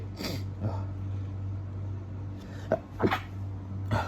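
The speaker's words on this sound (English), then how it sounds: "Sorry, folks, I had to sneeze." A few short, sharp bursts like sneezing over a steady low electrical hum, spaced apart, close by, with no clear talking.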